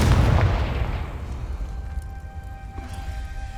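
The Confringo fire spell explodes in Hogwarts Legacy with a loud, deep boom that rumbles at the start and fades slowly into a low roar.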